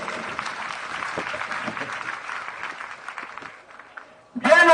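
A church congregation claps together in sustained, fairly loud applause that tapers off, and a voice cuts in at the end.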